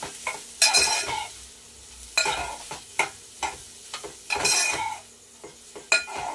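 Onions being stirred in a pan for a boiled egg onion curry, with a spoon scraping and clanking against the metal in irregular bursts over a soft sizzle, close and fairly loud, no voices.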